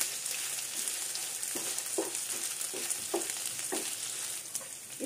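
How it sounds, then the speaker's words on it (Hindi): Mutton pieces frying on a tawa for a mutton tawa pulao, with a steady close sizzle and intermittent scraping stirs of a spatula against the pan, no talking. "अब हम इसे अच्छी तरीके से इसमें फ्राई करेंगे"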